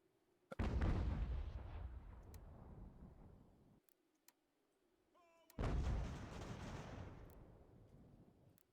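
Two heavy cannon artillery booms from the video game Ultimate General American Revolution, each a sudden blast with a long rumbling decay, the second about five seconds after the first.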